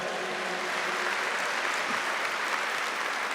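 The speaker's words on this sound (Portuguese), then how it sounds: "Vamos dar uma salva de palmas para ela." A church audience gives a guest a round of applause: dense, steady clapping from a crowd filling the whole stretch without a break.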